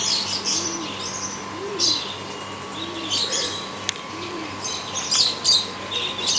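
Baby pigeons in a home loft make soft, low cooing calls in a repeated rhythmic pattern, with brief chirps and occasional wing flutters above a steady air-conditioner hum.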